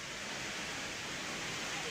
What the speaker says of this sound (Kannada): ಗಾಳಿಯವ್ರಿ ಭಾಳ ಅಂದ್ರೆ ಭಾಳ ಬಿಟ್ಟದ